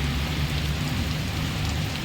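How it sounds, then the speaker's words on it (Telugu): Heavy rain pours down steadily in Dubai, a dense, loud hiss of drops drumming on surfaces without pause. "ఇక జోరు పడుతుంది వాన"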